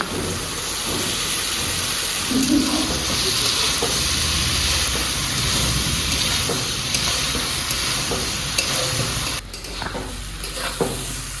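Shrimp and tender young jackfruit sauté in oil with salt, turmeric and spices, a steady close sizzle running throughout with occasional stirring scrapes, easing slightly toward the end.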